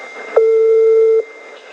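One ringing tone sounds on a long-distance telephone call to Tripoli, Libya: a single steady electronic burst of just under a second, clear and alone over faint line hiss.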